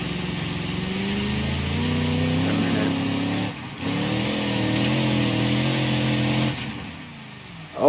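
Engine of a truck driven in the BeamNG.drive video game, a steady mid-loud drone with harmonic pitch rising and falling as it revs, briefly dropping out twice before resuming.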